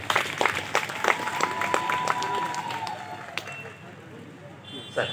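Enthusiastic applause from a crowd at a community day ceremony honouring a teacher, dense clapping with scattered sharp claps, steady and close, fading somewhat toward the end.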